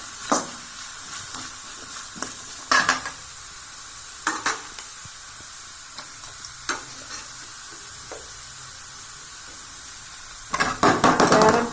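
Cabbage being stir-fried in a pan for vegetable fried rice, with scattered scrapes and stirring clatters over a soft sizzle, ending in a louder burst of tossing near the close.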